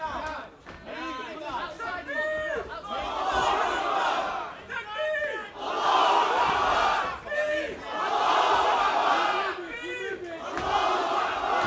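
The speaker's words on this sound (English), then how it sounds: "You hear a strong following there from the fan favorite from Muhdin Abubakar." A large crowd at a live MMA event roars and chants for a fan-favorite fighter, surging in repeated loud waves of cheering and shouting over nearly twelve seconds, with a commentator's voice mixed in.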